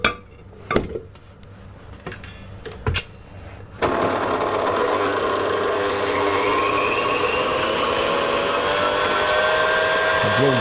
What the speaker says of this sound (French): Donc c'est au batteur maintenant.